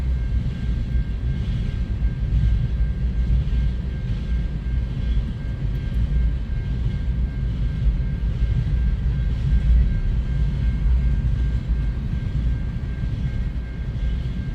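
A CN freight train carrying PV and potash hoppers rolls past at Ladysmith, Wisconsin, in winter, a steady low rumble of wheels and cars that holds level without a break.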